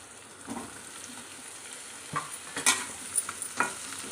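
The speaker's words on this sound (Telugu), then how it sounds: "ఇప్పుడు మ్యాంగోస్ కూడా యాడ్ చేసుకుంటున్నాను నేను" Mango pieces tumble into a pan of curry and get stirred through, giving soft wet sizzling and scraping with a few sharper clinks of a spoon against the pan, close and fairly quiet.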